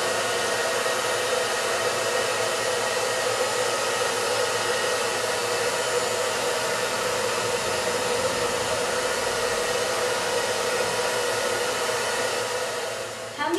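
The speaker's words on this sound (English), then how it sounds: "when I turn the hair dryer on" A hair dryer blows steadily at close range, levitating a ping pong ball in a physics demonstration, a constant loud whooshing roar that holds unchanged for the whole stretch.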